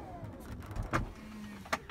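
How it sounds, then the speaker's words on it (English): The motorized gull wing door of a 2018 Tesla Model X P100D closes with a soft electric whir and a couple of close, muffled latching thumps inside the car. "Close the passenger door, and then we'll close the gull wing."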